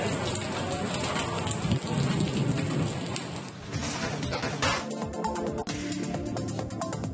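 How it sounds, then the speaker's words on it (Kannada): Heavy rain pours down steadily in Chitradurga district during a hailstorm, with rumbles of thunder rolling beneath the dense, continuous hiss of falling water. "ಚಿತ್ರದುರ್ಗ ಜಿಲ್ಲೆಯ ಹಲವೆಡೆ ಗುಡುಗು ಸಹಿತ ಮಳೆಯಾಗಿದೆ."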